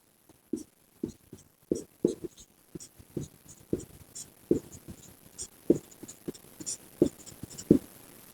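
A pen scratches across paper drawing a demand graph, making a steady run of short, close strokes and taps about twice a second, clear and alone.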